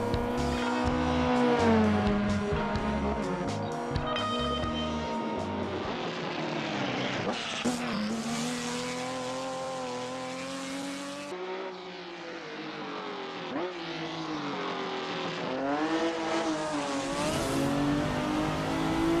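A Ferrari 365 P2 race car in a racing video game, its engine howling and revving steadily through upshifts and downshifts, with rising and falling pitch sweeps and occasional tire squeal, loud and continuous throughout.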